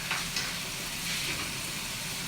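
Onions and other vegetables fry quietly in a pan, browning with a soft, continuous sizzle and a few small crackles, no talk.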